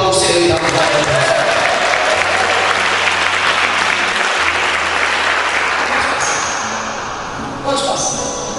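A church congregation applauds in praise, loud sustained clapping from a large crowd for over eight seconds, slowly easing toward the end, with voices and a low musical tone underneath.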